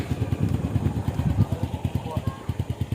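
A motorcycle engine idles close by in a rural spot with a rapid, even chugging pulse that throbs steadily for the whole stretch.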